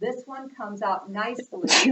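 A single sharp sneeze bursts out loudly at the end of a short stretch of someone talking in a precalculus lecture.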